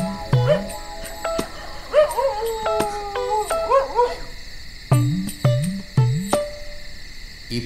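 A dog barks and yelps in short harmonic bursts, first near the start, then a quick run of three barks toward the end, over a faint steady background hum.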